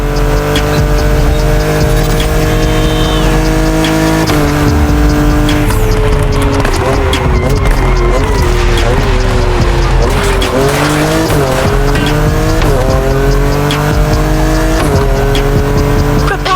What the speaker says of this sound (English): the Mustang Boss 429